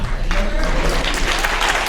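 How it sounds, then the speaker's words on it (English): An audience in a school writers' event room breaks into scattered, slow clapping, a few claps spaced out and building slightly, fairly close and alone without speech. "I like the slow clap"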